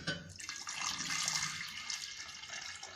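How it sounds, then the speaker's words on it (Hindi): Boiled, cooled water is poured into a jar for preserving Indian gooseberries (amla) in salt water, a steady splashing pour lasting a few seconds with no talking. "तो अब मैं जार में ये थोड़ा सा पानी डालूंगी।"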